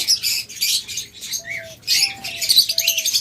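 Pet lovebirds and budgerigars in a shop chatter and chirp in dense, overlapping bursts, with a few clear whistled notes standing out, close and lively.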